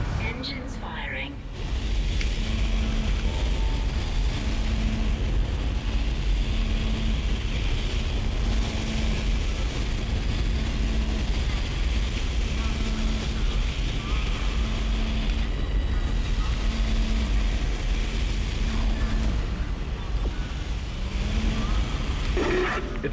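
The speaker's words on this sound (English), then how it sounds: "Engines firing." Spaceship engines fire in the sci-fi horror video game Dead Space: a steady, loud low mechanical rumble with a faint pulsing hum that holds for over twenty seconds after a brief quieter start.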